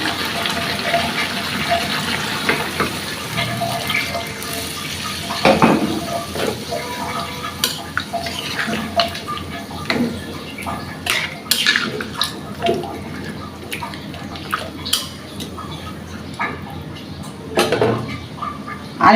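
Water is poured into a pan of pangas fish curry with bitter gourd, a steady gushing splash with scattered clinks and scrapes of utensils against the pan, with no one talking.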